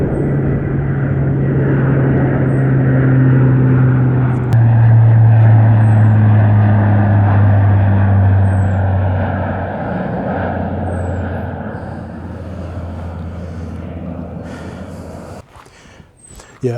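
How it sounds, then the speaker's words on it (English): Military planes fly over a serene sea loch on the west coast, a loud, sustained jet engine roar that drones steadily for many seconds before fading, with no voices. "There's some military exercises going on the west coast. Yeah, bringing the damn planes up,"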